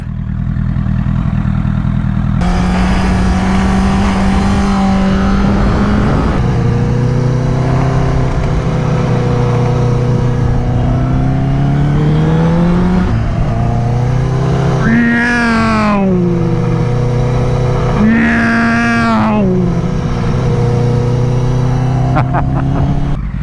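A motorcycle engine runs steadily and loud up close, its tone rising and settling, with two quick sharp revs in the later part and a continuous throaty drone throughout.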